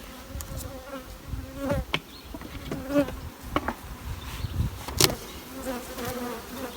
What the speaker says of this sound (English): Have a look at this double colony. See plenty of bees upstairs, which is good.